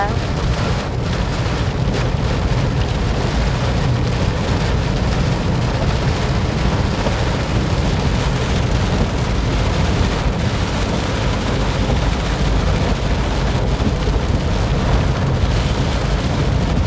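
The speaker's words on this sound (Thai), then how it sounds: "ตกแรงมากเลยจ้ะพี่น้องจ้า" Heavy rain pours down in a dense, constant roar that never lets up, loud and close, during a storm on a mountain road at Khao Kho, Thailand.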